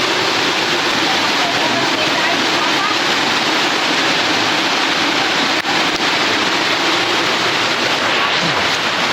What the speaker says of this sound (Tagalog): Laki na rin yung sapa dito sa likod. Konti na lang, mapupuno na.